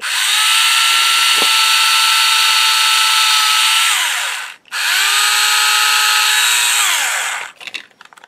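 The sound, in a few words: drill boring into a wooden leg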